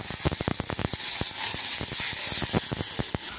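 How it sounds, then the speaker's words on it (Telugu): Tomatoes crackle and sizzle in a hot pan for a home-cooked curry, a steady bright hiss broken by a quick run of sharp pops and spits close by, with no talk. "జస్ట్ టమాటాలు కూడా కొంచెం వేస్తున్నాను"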